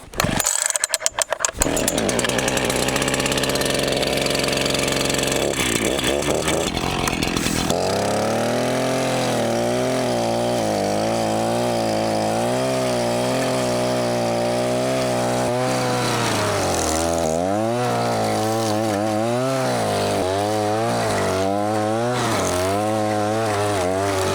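A chainsaw felling and debarking logs runs loudly throughout, its engine revving up and down in repeated surges and settling into a buzzing idle between pulls.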